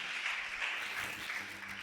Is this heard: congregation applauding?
yes